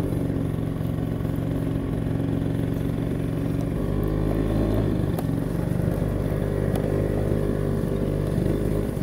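A motor engine running steadily, a loud, continuous rumbling drone that holds without a break and roughens slightly partway through.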